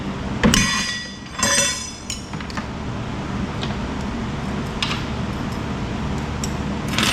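Scrap metal being sorted and tossed, including stainless pipe clamps, with a couple of sharp metallic clanks early on and then a steady background of rattling and rumble.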